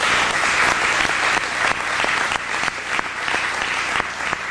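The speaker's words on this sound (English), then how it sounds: "So give her a round of applause." A lecture audience gives steady, close applause, a dense, even patter of many hands clapping throughout with no talk over it.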